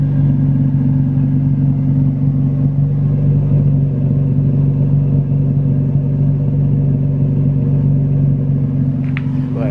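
Toyota Tacoma X-Runner with a Flowmaster Super 10 exhaust idling, heard up close as a steady, deep, loud droning rumble that holds even throughout.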